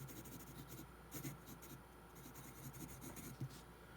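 A vintage 1950s–60s Eagle Turquoise 4H drawing pencil moving across paper: a faint, continuous scratchy graphite rasp with small stroke accents, heard close up and alone.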